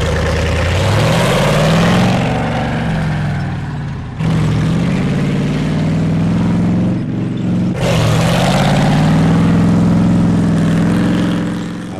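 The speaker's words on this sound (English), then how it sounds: "I was here for the tanks. And when they started up, everything else took a back seat." Tank engines starting up and running loud and close, deep heavy rumble revving up and settling, with two abrupt cuts between separate engine runs and no talking.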